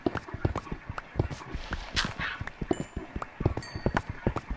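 Minecraft horse hooves clip-clopping in quick, irregular runs of steps throughout, with a few brief game sounds layered on top.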